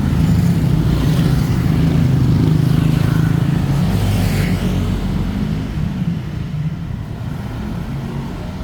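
Continuous roar of street traffic near the BTS Phra Khanong area, with cars and motorbikes passing close on a road without sidewalks, loud and steady, easing slightly toward the end.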